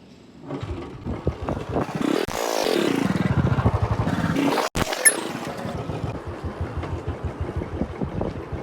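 A Bullet motorcycle rides toward a village fair, its engine thumping in a steady rhythm that swells as it revs and accelerates, with a rattle and a sharp clack midway; close and loud throughout.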